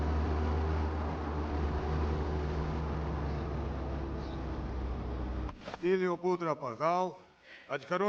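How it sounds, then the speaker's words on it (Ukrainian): In the video game Contraband Police, a vehicle engine with its windows smashed out gives a steady, loud, noisy roar for several seconds. It then cuts out, and someone talks. "нормально тепер звук двигуна чути, скло вибили"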